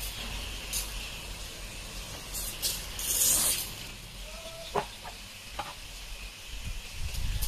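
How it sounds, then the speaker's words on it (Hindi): Short hissing bursts from a handheld spray bottle misting water onto the soil of a potted eggplant planting, a few separate squirts spaced over several seconds, close and fairly soft. "तो आप इस तरह से स्प्रेयर की मदद से"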